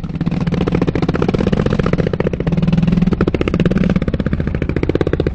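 Mini motorcycle engine running close and loud, a rapid buzzing putter with a fluttering rhythm that swells slightly as it revs, with no talking.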